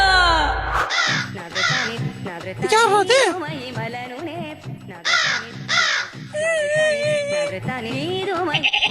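Loud, harsh crow caws come in repeated bursts, close by, sounding like a voice imitating a crow.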